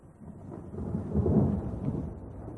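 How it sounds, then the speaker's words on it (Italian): A summer thunderstorm over Rome: deep, rolling thunder swells to a peak and rumbles on, with a steady wash of rain beneath it and no voices. "In quel preciso momento si andava formando su Roma un temporale estivo."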